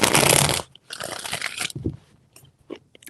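Tarot cards are shuffled near at hand in two rustling, crackling bursts, a loud one right at the start and a softer second, trailing off into a few faint clicks of the deck being handled.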